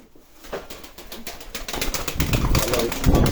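Pigeons cooing and fluttering close by in a loft, soft repeated calls and wing noise building louder toward the end, with someone talking faintly over them.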